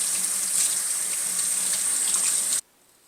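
Kitchen tap water runs steadily over fresh herbs being rinsed, a loud, even hiss that continues unbroken before stopping abruptly as the faucet is shut off.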